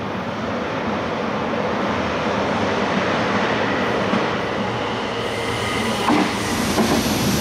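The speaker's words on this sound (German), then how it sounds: "Wir haben den Zug drauf." A train runs on the Donautalbahn railway line in the Danube valley near Hausen im Tal, a steady broadband rumble with faint wheel clatter, heard continuously at moderate distance with no voices.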